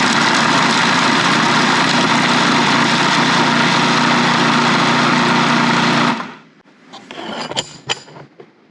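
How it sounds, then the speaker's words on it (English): Carrots are whizzed finely in a food processor with a loud steady motor roar for about six seconds, which then stops, leaving a few clinks and taps of the bowl and blade. "Okay, now we need to chop our carrots. And we want these pretty finely ground."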